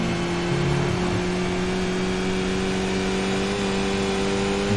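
A Skip Barber race car at Oulton Park in a racing video game, its engine droning steadily under throttle with a sustained tonal whine and faint pitch shifts, loud and continuous with no talk.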